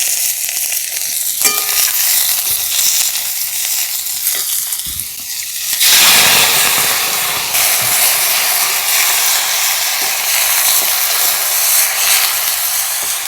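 Chopped garlic and onion dropped into hot oil with bay leaves and peppercorns for a chicken stew, a loud steady sizzle that jumps in intensity as they hit the pan and continues hissing.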